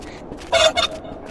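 Chickens in the video game Animal Company give a brief clucking, honking squawk, two quick bursts close by with no talk.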